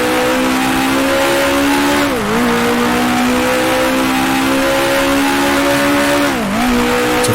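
A 1966 Formula One car in Grand Prix Legends holds a loud, steady engine drone at Copse, dropping pitch with two brief downshift blips; close and continuous, with no talking.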